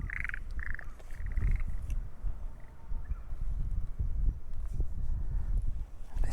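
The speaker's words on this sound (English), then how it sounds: "I hear some frogs." Frogs croaking by a roadside in Miyazaki, Japan, a few short rhythmic bursts of croaking early on that fade, over low wind and footstep noise.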